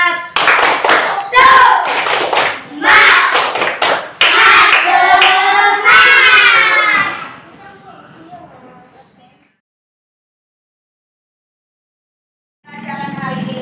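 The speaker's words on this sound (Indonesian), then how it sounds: "coba sekarang kita tepuk semangat" Classroom students clap a rhythmic 'tepuk semangat' pattern in a teaching session, bursts of sharp hand claps in groups alongside chanting voices, ending in a pause before talk resumes.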